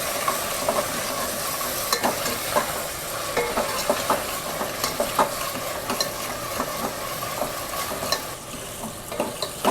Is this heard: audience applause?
no